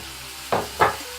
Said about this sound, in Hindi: मैं इसमें जो चॉप किया हुआ टमाटर, सॉल्ट और हरी धनिया सब डाल दूंगी